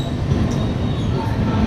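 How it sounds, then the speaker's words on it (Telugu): The Narayanadri Superfast Express rolls along the rails toward Tirupati at about 55 to 60 km/h after leaving Guntur platform 1, heard from inside a coach as a steady, close rumble with faint wheel squeal. "ఈరోజు మీరు చూస్తున్నది నారాయణాద్రి సూపర్ ఫాస్ట్ ఎక్స్ప్రెస్."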